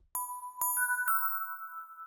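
A synthesized bell melody in a music production, four bright, clean chime notes struck one after another, the last ringing out and sustaining alone.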